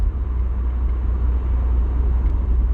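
A 1985 Pontiac Fiero SE V6 cruises with windows down and almost no throttle, giving a steady low engine hum and road rumble that stays even and close throughout.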